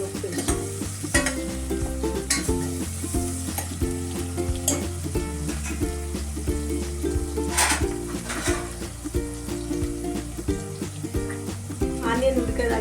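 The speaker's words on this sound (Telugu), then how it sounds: "ఉల్లిగడ్డ ఫ్రై అయింది" Onions fry with salt in a pan, a soft sizzle with frequent stirring clinks and scrapes, heard under steady background music.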